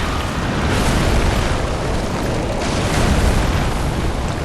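A bomb explodes in Dark Souls III, heard as a loud, dense, sustained rumbling roar of blast noise lasting several seconds, with no voices.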